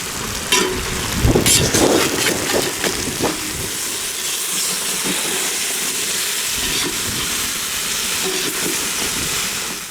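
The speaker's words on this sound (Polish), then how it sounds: "Do garnka dodaję dużą łyżkę masła. Po chwili dokładam mięso." Steady crackling sizzle of meat frying in hot butter in a pot for bogracz goulash, close and continuous, with a few louder clatters near the start.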